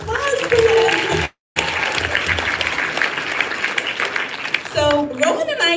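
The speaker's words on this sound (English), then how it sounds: "Let's have another round of applause for them." Applause from guests at a wedding reception fills the room in a steady, dense wash of clapping, broken by a brief silent gap, with a voice starting up over it near the end.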